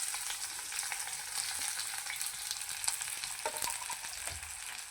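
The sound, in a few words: sliced onion frying in oil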